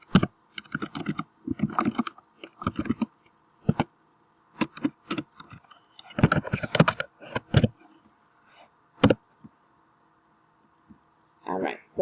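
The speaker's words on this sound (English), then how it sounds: "I'm just going to type it in." Computer keyboard typing in bursts of rapid clicks and taps, pausing between phrases, close and moderately loud over a faint steady hum while an answer is entered.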